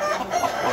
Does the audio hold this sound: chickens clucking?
yes